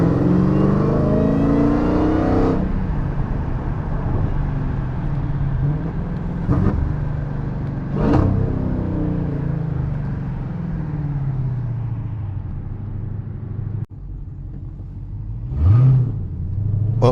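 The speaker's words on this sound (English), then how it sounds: "From factory, the Demon whines a lot louder than the exhaust." A 1000-horsepower Dodge Demon accelerates hard, its loud engine roar rising and falling through several gear changes while a high supercharger whine rides on top, heard from inside the car.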